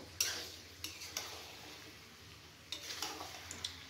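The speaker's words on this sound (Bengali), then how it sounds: "জিরের গুঁড়ো দিয়ে এবার আবার একটু আমি নাড়াচাড়া করে নেব।" Chicken curry with cumin powder is stirred in a pan, a spoon scraping and tapping several times over a quiet, steady sizzle, with no speech.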